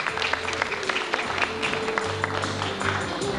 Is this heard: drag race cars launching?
no